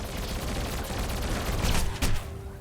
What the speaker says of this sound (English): Gonna have to shoot someone,